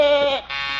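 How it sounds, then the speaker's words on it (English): A goat lets out a single loud, close bleat with a wavering, nasal tone, lasting under a second. "My goodness, is that a goat?"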